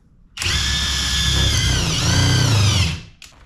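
A Seesii WH700 3-in-1 impact tool drills a hole, a loud steady whine with harsh buzzing that runs for about two and a half seconds, dips in pitch midway as it bites, then cuts off abruptly.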